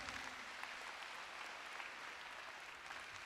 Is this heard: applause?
yes